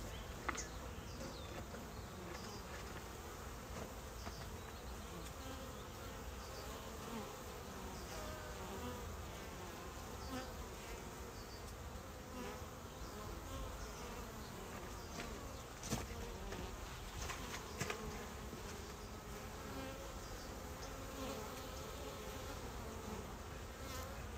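Honeybees buzz in a dense, continuous drone during a hive inspection outdoors on a mild day. The hum holds steady throughout with no talking.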